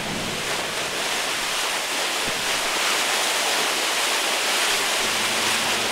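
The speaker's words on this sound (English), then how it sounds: "This will help clear the hydrant of debris. Now, turn the stem until it is fully open. The discharge force should be noticeably greater." Water gushes from a fully opened fire hydrant in a steady, loud, hissing roar that stays constant throughout, with no voices.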